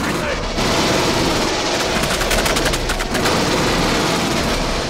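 Loud, dense gunfire in the Aliens: Colonial Marines shooter game, with rapid automatic bursts over a constant roar of battle noise. Voices talk faintly underneath.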